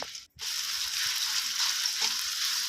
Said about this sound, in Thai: ใส่ พริกแกงลงไปผัดให้หอมเลยนะครับ